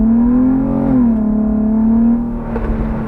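Black Infiniti G35 engine intake droning loudly and steadily as the car accelerates, with a brief pitch dip midway before the tone settles again.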